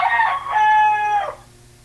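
A rooster crows once, loud and close, with a full drawn-out cock-a-doodle-doo call that cuts off into quiet.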